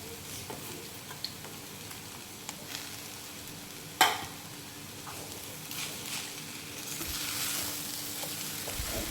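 Jaggery being stirred and sautéed in a pan while making puran poli: a soft, low sizzle with light scraping, one sharp utensil knock midway, then a broader rushing hiss near the end.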